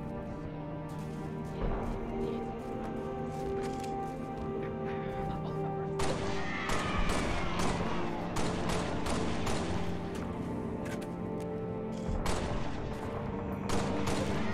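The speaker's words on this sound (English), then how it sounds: "Suppressing fire!" Gunfire in Halo: Reach rattles in repeated bursts over a busy game soundtrack, with sharp cracks and a denser volley of shots from about six seconds on.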